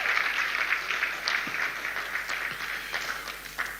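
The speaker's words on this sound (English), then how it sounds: "she deserves a big, big round of applause too" A large audience at a trophy presentation for a women's basketball team gives a round of applause for the First Lady: a steady, slightly distant wash of many hands clapping, fading a little toward the end.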